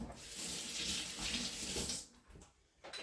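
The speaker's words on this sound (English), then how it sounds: "I'm gonna rinse my hands" Hands rinsed under a running kitchen tap, a steady close rush of water into a sink that breaks off near the end with a few splashes, no speech.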